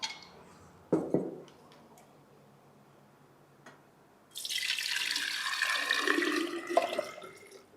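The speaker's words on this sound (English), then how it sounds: "I'm pouring on this container." Fresh homemade juice pours steadily into a container in a kitchen, a continuous splashing stream that starts partway through after a few light clicks and taps and runs loud and close to the end.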